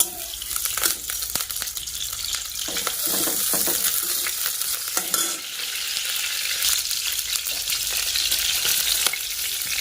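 Onions fry in hot oil in a pan, a steady bright sizzle with crackles and occasional stirring scrapes, close and continuous without speech.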